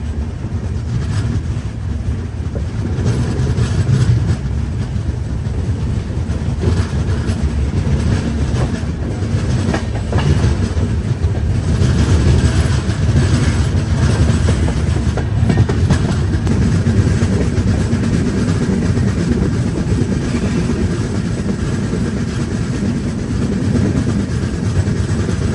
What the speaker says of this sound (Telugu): ఈ స్టేషన్ నుంచి అయితే బయలుదేరిపోయింది.